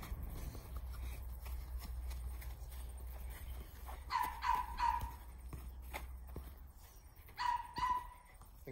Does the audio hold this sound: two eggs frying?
no